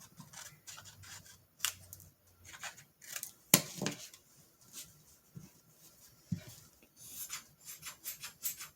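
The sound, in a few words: cutting craft material with scissors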